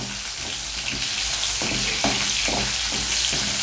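Curry leaves and ten to twelve dried red chillies frying in hot oil for Andhra-style Guntur chicken, a loud continuous crackling sizzle with faint rhythmic stirring beneath, close and unvoiced.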